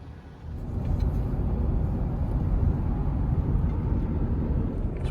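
A car on the road toward Kings Canyon National Park gives a steady low rumble of engine and tyre noise, with a cabin-level drone that swells slightly after the first half-second and then holds constant.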